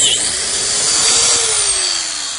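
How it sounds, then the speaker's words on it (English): A biscuit joiner whines at high pitch as it cuts a slot into a plywood brace, a loud, close, continuous shriek with its pitch sagging slightly under load. "I'm making a slot for a biscuit to attach it to the frame"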